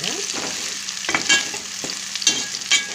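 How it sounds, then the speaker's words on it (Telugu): Coriander leaves fry in a pan with a continuous close sizzle, broken by repeated scraping strokes and metallic clinks of a stirring spoon at an irregular rhythm, with no voices. "కొత్తిమీర కొంచెం ఫ్రై అవ్వాలండి బాగా."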